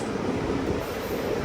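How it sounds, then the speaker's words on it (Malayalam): Palaruvi Express rolling into Thrissur railway station, a low steady rumble of carriages slowing on the track, heard from inside the train. "തൃശ്ശൂർ റെയിൽവേ സ്റ്റേഷനിലേക്ക് ഇതാ നമ്മുടെ ട്രെയിൻ എത്തിക്കൊണ്ടിരിക്കുകയാണ്."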